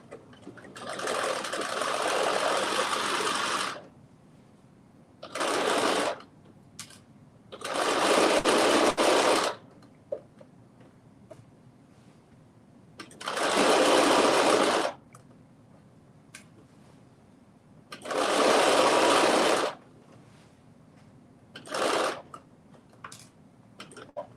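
A sewing machine stitches a dress seam with a 5/8-inch allowance in bursts of steady whirring, about six runs of a few seconds each separated by quiet pauses, close and clear.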